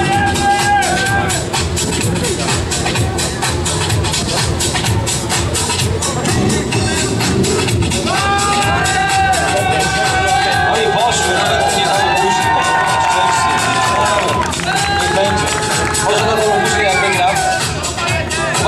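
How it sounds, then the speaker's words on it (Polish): Outdoor crowd at a car show with tire-burning stunts cheers and shouts in a loud, continuous hubbub, with whistles and excited voices layered over a lively background. "duże brawa dla nich właśnie"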